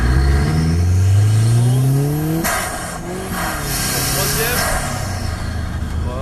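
Race car accelerating hard on an asphalt track, engine pitch climbing through the gears with a sharp shift midway, loud and close, while a voice briefly speaks over it.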